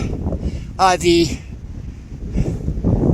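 Wind gusting near the top of Mount Baden-Powell in the San Gabriel Mountains in winter, a steady low rumble of buffeting against the microphone throughout, with a brief burst of speech early on.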